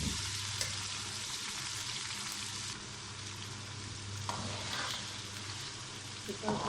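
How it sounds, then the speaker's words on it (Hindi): Chicken fries in a pot for Chitrali biryani, a loud, constant sizzle with occasional stirring clinks and scrapes up close, no voices over it. "चिकन को हम 10 से 15 मिनट भूनेंगे"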